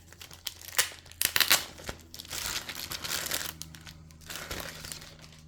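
Close plastic bag around a boxed figure crinkling and rustling, with bursts of sharp crackles early on, then a steadier rustle that fades and resumes.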